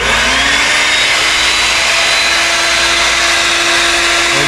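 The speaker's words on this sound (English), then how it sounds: "tighten everything up on the router and I'm ready to go." A router cuts a guitar pickguard with a steady, loud, continuous motor whine and cutting noise that holds unbroken throughout, with no talking.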